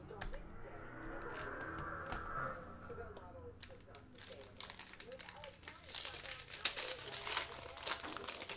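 A fat pack of 2020 Panini Donruss NFL football cards is ripped open, giving a steady crinkling, tearing foil-wrapper rustle throughout, louder and more broken toward the end, with faint talk beneath.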